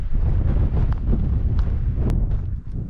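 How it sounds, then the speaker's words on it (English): Strong wind buffets a microphone outdoors in a small old mining town, producing a constant loud low rumble and roar with faint scattered ticks throughout. "Kind of windy. You can even hear me. The wind is terrible."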